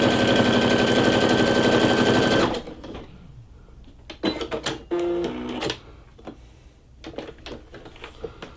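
A Brother SE625 sewing machine runs a basic utility stitch in a loud, fast, even whirring buzz for a couple of seconds, then stops and gives way to scattered clicks and mechanical clunks.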